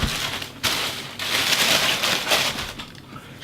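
Rain falls steadily as a dense, broadband hiss, close by and fairly loud, with uneven surges and patters across a few seconds and no talking.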